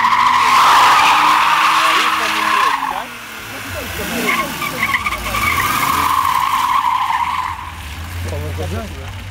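A BMW convertible spinning with tires skidding, a loud sustained squeal that fades, then rises again in a second long screech, with engine noise and people talking nearby.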